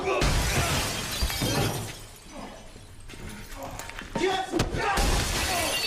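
Glass shatters loudly in a burst of crashing shards as a person is kicked through it, followed by scattered thuds and tinkling debris, with more breaking impacts amid some voices.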